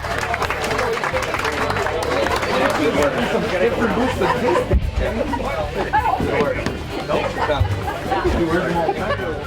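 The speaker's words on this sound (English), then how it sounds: "I want a round of applause for them, guys." Crowd applause and cheering for the winning team at a fishing tournament awards, continuous clapping blended with loud chatter and hubbub from a nearby gathered crowd.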